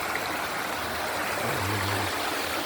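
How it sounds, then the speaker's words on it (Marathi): A small mountain stream in the Konkan countryside of the Sahyadri hills rushes steadily, a soft even broadband flow of water with no other sounds. "हा पर्या आहे खूप पाणी येतं पावसाच्या वेळेला"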